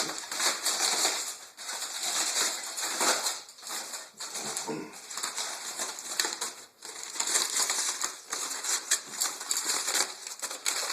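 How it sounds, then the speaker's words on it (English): Crinkly foil or paper wrapping is pulled away from a smoked pork shoulder of about nine pounds, giving a continuous close crackling and rustling with short pauses and no talk. "I'm going to unwrap the shoulder."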